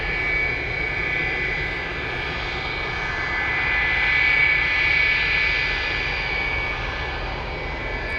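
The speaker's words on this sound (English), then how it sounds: "Saab 2000. Landing in a few seconds." A Saab 2000 turboprop airliner lands at Anchorage airport on a windy day, giving a steady, loud engine drone that swells slightly mid-way and fades back, with wind noise and no talking.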